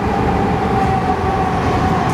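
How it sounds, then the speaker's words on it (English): A passing train rumbles steadily and loudly throughout, a dense low roar with a faint sustained tone above it and no voices. "Train."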